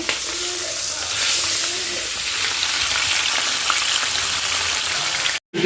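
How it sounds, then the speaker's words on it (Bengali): Chicken pieces fry in a pan for a biryani, a steady close sizzle and hiss running throughout with a brief drop near the end. "এখানে চিকেনগুলো ভেজে দিচ্ছি"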